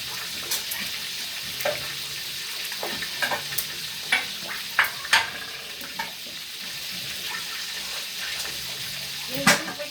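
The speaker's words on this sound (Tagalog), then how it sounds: "Habang nag-prito tayo" Food frying in a pan in a home kitchen, a continuous soft sizzle broken by clinks and knocks of utensils and dishes, with running water mixed in and a voice briefly audible.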